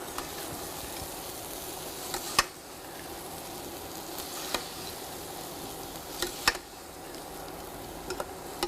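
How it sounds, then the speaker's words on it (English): A spoon stirring a colourful dish in a hot pan: a soft, continuous sizzle with sharp scraping clicks and taps against the pan at irregular moments, fairly close and quiet. "Give it a stir."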